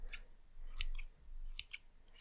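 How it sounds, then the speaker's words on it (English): Several crisp scissor snips, close and clear, in short uneven bursts with quiet gaps between them. "trusty hairdressing scissors."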